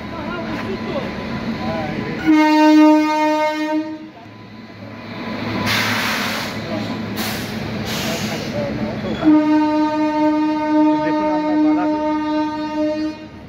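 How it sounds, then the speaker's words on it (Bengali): A train at Balasore railway station sounds two long, loud horn blasts separated by a stretch of rumbling rail noise and passing clatter, with talk heard between the blasts on the platform. "একটা না একটা ট্রেন তো আসতেই থাকে।"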